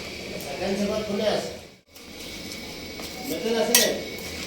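Leafy greens being stirred in a cooking pot with oil, utensil scraping and clinking against the metal in two bursts around a brief pause, under a speaking voice.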